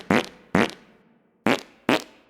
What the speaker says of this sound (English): Fart noises never get old.